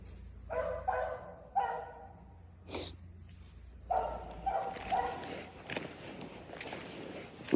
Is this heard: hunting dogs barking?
yes